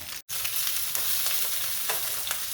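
Seafood searing in hot oil in a paella pan, a loud steady sizzle with faint crackles and small pops, briefly cut off near the start and then continuing uninterrupted without speech.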